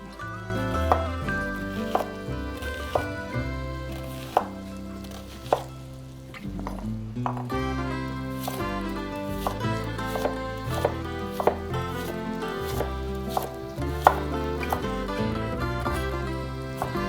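A knife chops onions on a cutting board in quick, steady strokes. The cuts sound close and crisp and repeat over a continuous tonal background, with a brief pause partway through.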